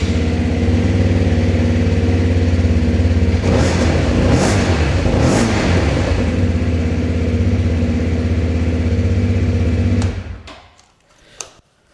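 A Lexmoto LXR 125cc Euro 5 motorcycle runs loud and close with a steady, buzzy idle, swells briefly as if blipped around the middle, then is switched off near the end and leaves a few faint clicks.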